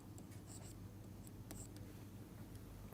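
Pen or chalk strokes of equations written by hand, faint and close, in short scratchy bursts separated by quiet pauses.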